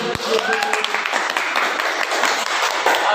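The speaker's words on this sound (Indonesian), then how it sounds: "Tepuk tangan dong." A school class breaks into applause for a classmate, a dense burst of many clapping hands with voices and chatter mixed through it.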